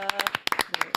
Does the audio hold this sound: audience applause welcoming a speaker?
yes